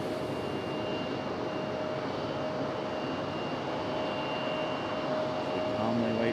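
A JetBlue jet airliner taxis and turns at Raleigh-Durham International Airport, its engines giving a steady, moderately loud roar with a faint high whine, heard from a distance and unchanging throughout.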